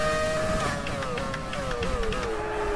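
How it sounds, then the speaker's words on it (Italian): Ferrari F2007 naturally aspirated Formula 1 engine in the F1 2020 game, a sustained high-pitched wail that steps down through gear changes before climbing again, loud and continuous with no talking. "il rumore fantastico del motore aspirato, che è ineguagliabile"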